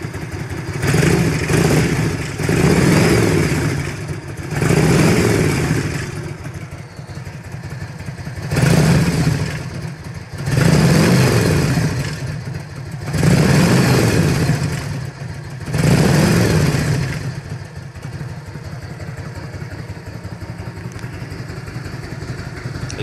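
A Harley-Davidson FL motorcycle with a newly replaced urethane front motor mount, its engine blipped through about seven rising-and-falling revs in bursts, close by and loud, with no voices.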